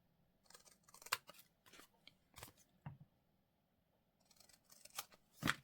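Scissors trimming the edge of a piece of card, close and quiet. Several short, crisp snips come in uneven clusters with brief pauses between them.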